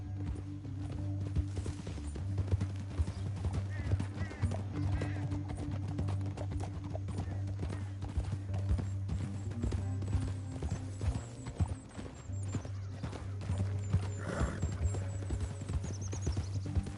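Horses' hooves clip-clop steadily through a canyon, several animals walking or trotting up close, with a whinny rising partway through over a low rumbling background.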